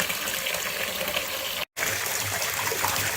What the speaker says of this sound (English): I tip out the water, leaving the rocks in there